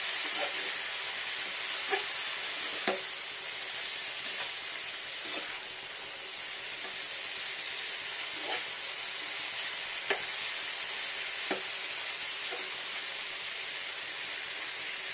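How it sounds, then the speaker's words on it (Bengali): Tomato, pointed gourd and slit green chilies frying in a pan, a steady hissing sizzle with a few light scrapes of a spatula at intervals, no voices. "একটু ফ্রাই হবে টমেটোটা। পটলটাও ফ্রাই হবে।"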